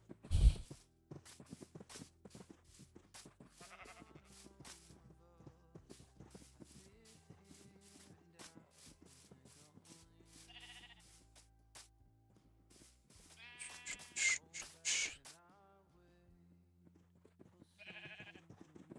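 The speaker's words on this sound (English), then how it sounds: "Oh, we got 2 sheep." Sheep in the video game RLCraft bleat a few times in short nasal calls over quiet game music and soft shuffling steps, with the loudest bleats coming near the end.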